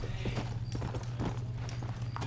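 Horse hooves clip-clopping in a steady trotting rhythm in the video game Red Dead, loud and close over a low droning hum.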